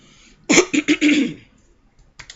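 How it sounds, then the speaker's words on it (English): A harsh, raspy smoker's cough in several quick bursts, close and loud, followed by silence and a faint sound at the end. "smoker's cough."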